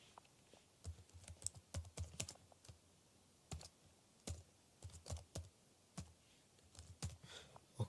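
An email address is typed on a computer keyboard, quiet and close, with uneven runs of key clicks and short pauses, with no voices.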